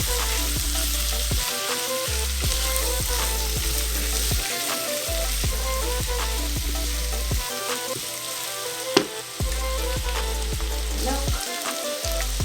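Lots of garlic sizzles in a pan for a chickpea curry, a steady close frying hiss with regular scraping stirs of a spoon and one sharp knock.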